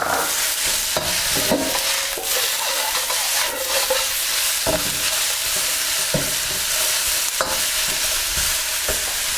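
Beef satay with carrots and sesame seeds stir-frying in a hot pan, a loud continuous sizzle broken by frequent scraping stirs and occasional clacks of the utensil, close up with no talking.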